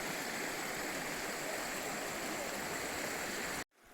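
Stream water flowing steadily and loudly outdoors, a constant dense rushing wash that fills the whole clip without a break before cutting off at the end.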